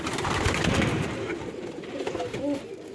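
Pigeons coo steadily near pigeon lofts on an allotment plot, a close, continuous layered murmur of soft calls with no talk.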